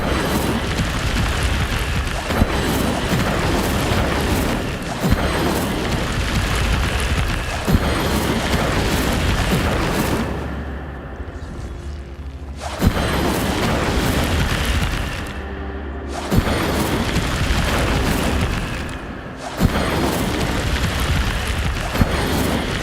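Rolling, roaring fire-spell blasts from the Incendio charm in Hogwarts Legacy, a loud continuous crackling whoosh that swells and renews every few seconds, with two brief near-silent gaps between bursts and no talk.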